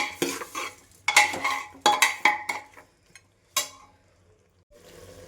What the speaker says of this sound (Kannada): ಸ್ವಲ್ಪ ಕೊತ್ತಂಬರಿ, ಸ್ವಲ್ಪ ಪುದೀನ ಹೆಚ್ಚಿಟ್ಕೊಂಡಿರೋದು ಹಾಕ್ತಾ ಇದ್ದೀನಿ. ನೀಟಾಗಿ ಮಿಕ್ಸ್ ಆಗಲಿ.